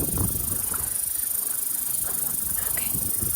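Steady wind buffeting outdoors beside a lake, a constant rushing roar that fills the whole clip with faint scattered background sounds beneath it.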